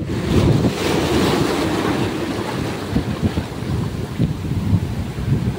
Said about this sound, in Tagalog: Grabe talaga ng alon dito.